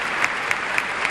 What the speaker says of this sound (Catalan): Ovació d'un Saló Sant Jordi ple de gom a gom.